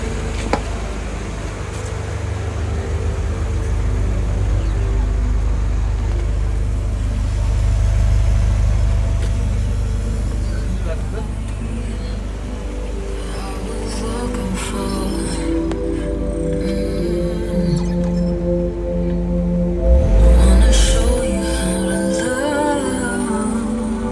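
A Mercedes car, just repaired, with its engine cranking to life and then idling in a low steady rumble, close by, with a few clinks and a brief louder surge of revs near the end.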